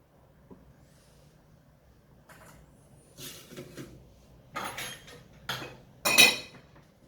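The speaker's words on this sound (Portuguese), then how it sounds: "aí nós vamos acrescentar numa forma untada" Orange cake batter being moved into a butter-greased baking pan, with a few scattered clinks and scrapes of a utensil against the pan that grow louder toward the end, separated by quiet gaps.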